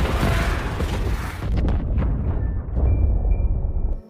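A loud, sustained rumbling blast aboard the Kursk submarine in the 2018 film Kursk, with deep roaring low end and crackling debris, lasting several seconds before cutting off abruptly.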